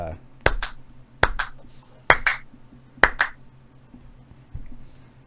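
A slow clap at a tabletop Dungeons and Dragons game night: four sharp, spaced hand claps about a second apart, each with a quick echo, then a fainter fifth, with a low room hum beneath.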